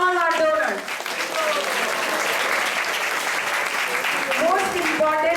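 A crowd at a Sunday temple festival in Atlanta applauds donors with sustained, loud clapping, while a voice with rising and falling pitch speaks or sings at the start and again near the end.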